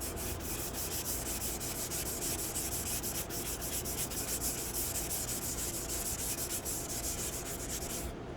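Steady, close rubbing of sandpaper along the edge of a wooden RV table from a Class A motorhome, a continuous gritty scrape running unbroken for about eight seconds, with no talking.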